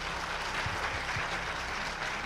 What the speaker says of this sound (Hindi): तो ताली बजा सकते हैं।